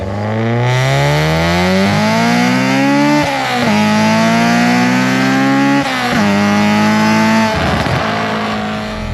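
Honda Civic EJ9 with a B18 engine revving hard toward 9,000 rpm, loud rising engine pitch climbing through several gears with brief dips at each shift, sustained and close with no talking.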